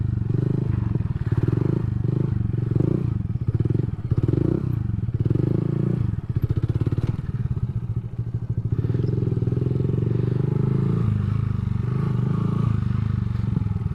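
A Honda Grom motorcycle engine revs and bogs in a loud, close, continuous drone during sit-down circle wheelies, its pitch rising and falling, with occasional clatter and scraping.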